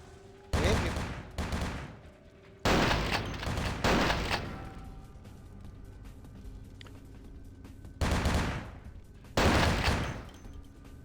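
Gunfire in Vampire the Masquerade: Bloodlines: loud bursts of rapid shots in four clusters, with a game ambience humming in the gaps between them.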